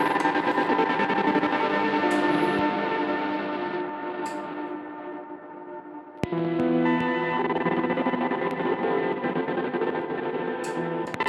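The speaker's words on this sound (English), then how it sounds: "if you turn this knob up, you get this really nice stuttering reverb effect" A modular synth patch through a synth module's stuttering reverb effect, a dense sustained drone with shimmering, echoing repeats that thin out midway and then swell back with pulsing, choppy tones.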